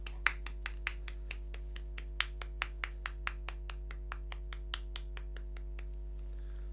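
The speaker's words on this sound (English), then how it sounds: "That clap went on for too long" A single pair of hands claps slowly and evenly, around twenty separate claps spaced about a third of a second apart. The claps are quiet against a steady electrical hum and no one speaks.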